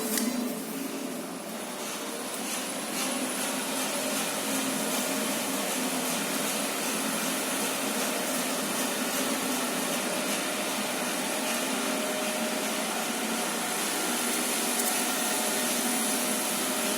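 Modern gearless lift motors running in the machine room of a London tower block, a steady whirring drone with a high whine, even and close throughout, no speech.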